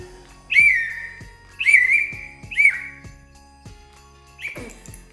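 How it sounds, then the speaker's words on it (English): Three rising whistle calls ring out in a steady rhythm, with a fourth shorter one, over faint jingling and ticking in the background; a whistle called to a sleigh team. "to his team gave a whistle"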